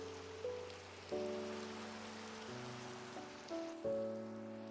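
Rain falling in Minecraft as an even, soft hiss of drops, steady and fairly quiet, beneath sustained game music notes that shift every second or so.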